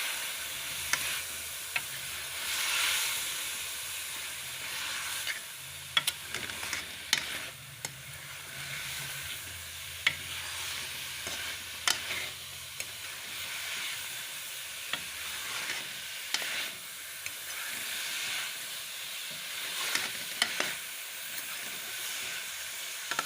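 Chicken that was fried earlier is stirred into bitter gourd cooking in a pan. It makes a steady, close sizzle with scraping and clinking from the spoon running throughout. No one speaks.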